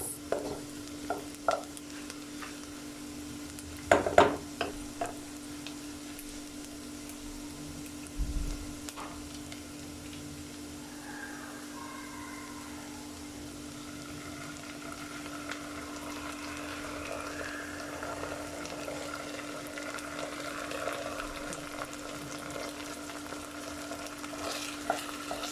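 Ginger garlic paste fries with onions in a pan for pav bhaji, giving a soft, steady sizzle broken by a few clattering stirs and knocks near the start, with a constant low hum beneath.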